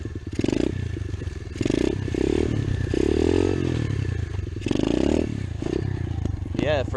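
A Chinese motorcycle revs repeatedly while doing circle wheelies, engine pulses rising and falling in loud surges with clattering and scraping, and a person talks over it.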